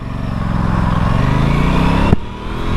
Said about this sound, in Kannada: ಫಸ್ಟ್ ಗೇರ್ ಫಸ್ಟ್ ಗೇರಲ್ಲಿ ಸ್ವಲ್ಪ ಟಕ್ ಅಂತ ಹೊಡೆಯುತ್ತೆ second gear smooth third gear ಇನ್ನೂ ಸ್ಮೂತು